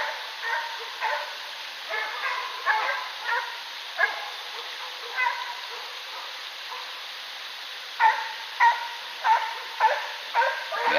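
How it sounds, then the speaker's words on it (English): A pack of hunting dogs chasing a bear during bear season, heard from a fishing spot: a steady series of distant barks and yips in irregular bursts, echoing faintly, with clustered barking toward the end. "Yep, those are all hunting dogs after the bear."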